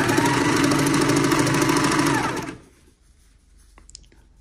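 A serger stitching a t-shirt seam in one continuous run on the pedal, a loud steady mechanical whir for about two and a half seconds that then stops, leaving faint handling clicks.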